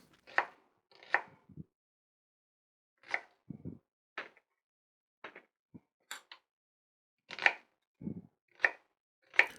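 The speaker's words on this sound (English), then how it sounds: "Peel and slice the onion." An onion sliced with a knife on a cutting board, a string of separate, crisp cuts and board knocks in small clusters with quiet gaps between them, close and clear with no talking.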